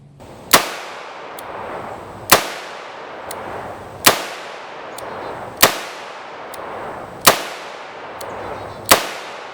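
Six sharp revolver shots from a Kimber K6XS alloy-frame six-shot revolver firing 130 grain full metal jacket rounds, spaced about every second and a half, each a loud crack with a ringing tail, with no talk.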